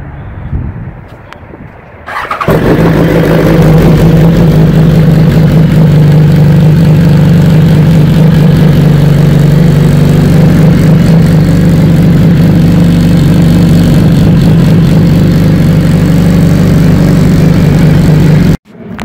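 A 2018 BMW S1000RR sportbike starts up and then idles loudly and steadily while warming up, a close, constant engine drone that holds until an abrupt stop at the end.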